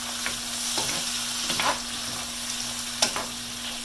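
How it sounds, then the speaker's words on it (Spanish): Onions and tomato fry in a pan with a steady, soft sizzle, broken by a few brief stirring scrapes and clicks. "Y aquí miramos que las cebollas están transparentes, ponemos el jitomate."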